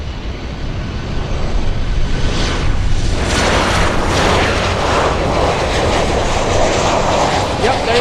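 A Lufthansa airliner taxiing at Miami International Airport, a loud, steady, broad engine roar that swells slightly and holds for the whole stretch.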